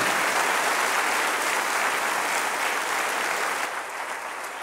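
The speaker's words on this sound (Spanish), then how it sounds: "Dale un aplauso de alabanza a su nombre" Church congregation applauding in praise during a sermon, a dense, steady clapping that fills the room for several seconds and thins slightly toward the end.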